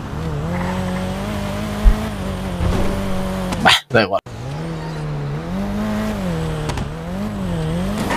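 A car in a video game drives with a steady, wavering engine hum and brief tire squeals, heard under someone talking, with a short dropout partway through.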